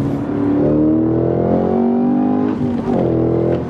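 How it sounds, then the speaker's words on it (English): Cadillac CT5-V Blackwing engine auto rev-matching on downshifts, a loud, close exhaust roar with rising and falling pitch and quick throttle blips as the gears change, no talking. "So we go up a couple gears and it automatically rev matches on downshift."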